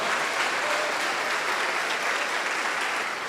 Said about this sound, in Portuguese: Vamos dar uma salva de palmas para o nosso Pai.